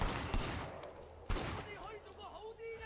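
Gunfire in the video game Sleeping Dogs, with two sharp shots standing out over a busy, noisy background of game sound and music.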